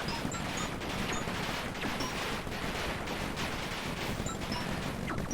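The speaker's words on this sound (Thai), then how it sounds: "นี่ไงระเบิดบึ้มหายไปเลย" Explosions and rapid gunfire from turret defenses in the Paper Planet game, a dense, steady barrage of blasts and shots running throughout at constant loudness, with no speech.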